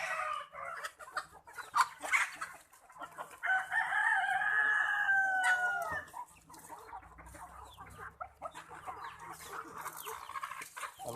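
Sonali desi chickens cluck repeatedly close by, with one long crow rising over the flock midway through and scattered softer clucks and rustling afterward.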